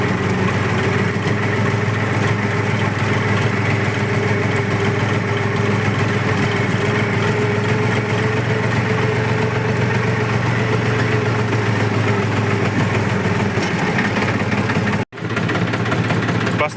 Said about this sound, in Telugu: ప్రస్తుతం మనం ఇప్పుడు బండి అయితే స్టార్ట్ అయింది.